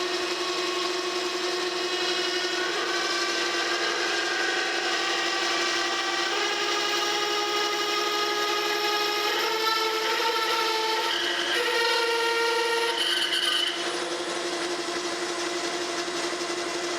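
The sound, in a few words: 7/8 inch drill bit drilling metal on lathe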